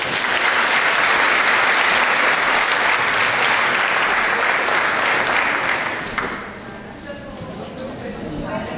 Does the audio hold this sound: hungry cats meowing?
no